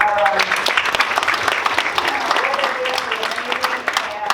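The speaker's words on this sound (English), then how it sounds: "another round of applause for OnBoard" Applause from a keynote audience, a dense patter of many hands clapping steadily at moderate volume for a few seconds.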